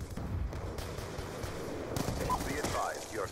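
Gunfire in Call of Duty Black Ops 2 against veteran bots, a dense, rapid burst of automatic shots with scattered game effects, moderately loud, under a player's voice.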